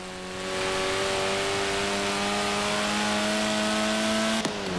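A 1960s Lotus Elan sports car engine drones steadily in Forza Horizon 4, a loud, even tone that climbs slightly as it drives, with a brief click near the end.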